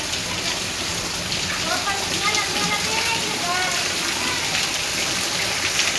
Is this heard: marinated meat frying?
no